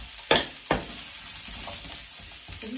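Zucchini and other vegetables frying in a pan, a faint steady sizzle opened by two sharp clacks of a utensil, with soft stirring scrapes after.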